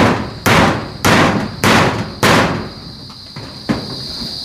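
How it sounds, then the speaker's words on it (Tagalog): Four loud, sharp hammer blows land about half a second apart, followed by a couple of lighter taps, with ringing between strikes. "ginagawa ni Kuya Joel at pinupukpok"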